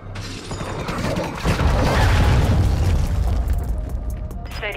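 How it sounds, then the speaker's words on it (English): A cruise missile strike in a Call of Duty ranked match lands as a heavy, rumbling boom that swells after a second and rolls on loudly, with a thin electronic beeping near the end. "Hostile cruise missile launched."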